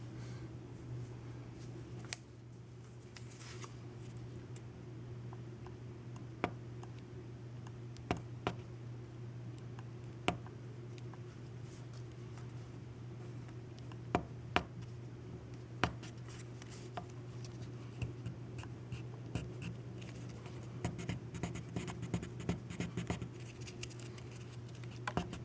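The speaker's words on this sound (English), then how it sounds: "Now we attempt to scrape out the paper." Paper being scraped off the back of a signaling mirror after an alcohol soak: faint, sparse scratches and light ticks over a steady low hum, quiet and close.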